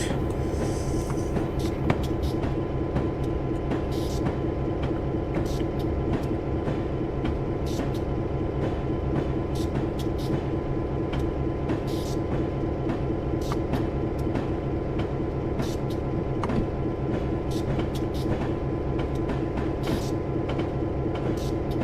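A video-game EMD F7 diesel locomotive train on the B&O Mountain Subdivision rumbles steadily at close range, a deep constant engine drone with rhythmic clicks and clatter from the wheels over the rails.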